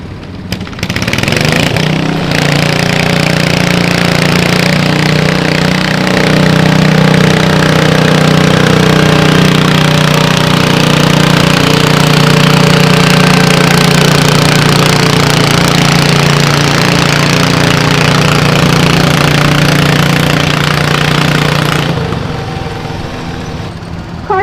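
Garden tractor engine roaring at a tractor pull event, loud and close, building up and holding a steady heavy drone for about twenty seconds before cutting off abruptly.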